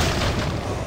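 A single loud, close gunshot with a booming low-end body fired during gameplay in Resident Evil 4, ringing briefly and alone.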